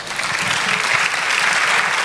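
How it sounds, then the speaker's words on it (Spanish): Church congregation giving a round of applause to the Lord, dense loud clapping from many people filling the whole short stretch without pause. "Dar un aplauso al Señor."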